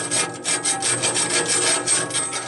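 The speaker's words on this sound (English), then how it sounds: "I'm just filing up and down to get the little bit of burr off that rolls over" A hand file rasping up and down the teeth of a band saw blade to remove burr, steady close strokes in an even back-and-forth rhythm, about five passes per second, with no voices.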